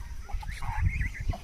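Geese honk in a small village playing field beside nearby homes, giving short, close, nasal calls in a loose irregular run over a quiet background.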